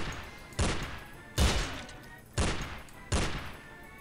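Four loud, evenly spaced bursts of gunfire in the action game Madness Deathwish 2, each a sharp blast that decays into a short rumble, with no talk over them.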